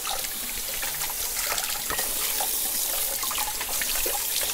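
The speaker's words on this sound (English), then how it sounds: "so then we just give it a rinse." Running water rinses window blinds in a sink, a steady close splash and trickle of water with small drips and patters, alone and even in loudness.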